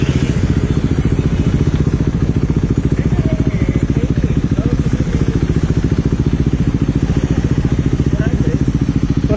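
A 400cc motorcycle engine idles steadily and close by, a loud, even rapid putter that holds without change throughout.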